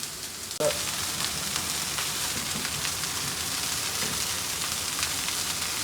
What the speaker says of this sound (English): We're just going to brown them in a nice steel pan, a little bit of olive oil